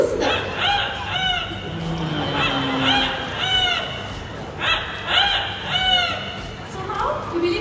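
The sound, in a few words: parrot mimicking a rooster crow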